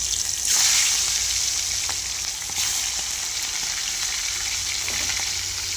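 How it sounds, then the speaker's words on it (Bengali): Prawns frying in hot mustard oil: a loud, steady sizzle and hiss that continues throughout, with no voices. "এবার আমি এক এক করে চিংড়ি মাছগুলো ভেজে দেব"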